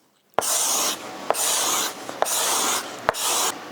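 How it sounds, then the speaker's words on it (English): A hand scraper drawn across the wooden body of a guitar in four long, even strokes, each opening with a sharp click as the blade bites, then a dry rasping hiss, close and alone. "how much scraping actually goes into a guitar at the very beginning part of this"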